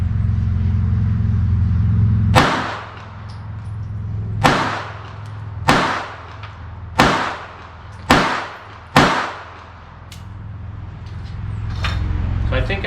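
Six sharp, loud shots from a Sig Sauer P238 .380 pistol firing New Republic full metal jacket rounds at a 25-yard target, spaced about a second apart with a short pause after the first, over a low steady background hum.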